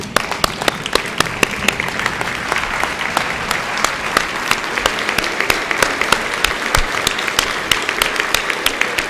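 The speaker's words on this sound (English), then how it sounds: "everyone standing and giving yourself a final round of applause" A standing crowd at a Rotary club service fair gives a long round of applause, loud and continuous, with many crisp individual claps cracking through the dense wash.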